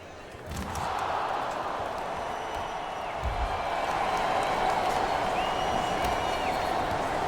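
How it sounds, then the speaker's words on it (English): In the NBA Live 19 basketball video game, an arena crowd breaks into applause and clapping after a made three-pointer. It starts abruptly and holds as a steady, moderately loud wash of clapping and crowd noise. "now he's clapping because that ball went in"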